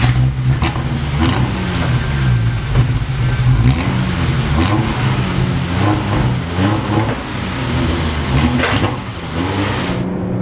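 An Alfa Romeo Alfetta GTV6 with a 2.5 V6 engine pulls hard on the road, its loud, close engine note rising and falling through repeated revs and gear changes for several seconds.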